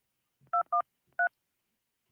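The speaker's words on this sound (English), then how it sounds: "we're gonna make a phone call" Telephone keypad tones sound as a number is dialed: three short clean beeps, two in quick succession and a third after a pause, then a fourth starting, alone in silence.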